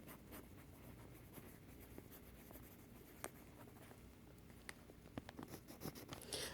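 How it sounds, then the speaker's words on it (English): A pencil writes words on a first-grade math worksheet, close and quiet, with short scratchy strokes and small taps and no talk. "I'll write board games"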